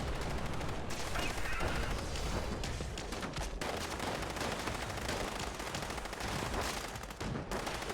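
Dense gunfire in Fallout 76 crackles nonstop, rapid bursts like an automatic weapon over a booming battle din, loud and unbroken across the whole stretch.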